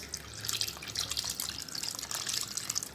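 Dissolved tamarind water being poured into a pot for a one-pot fish kuzhumbu, a continuous close splashing pour with no speech.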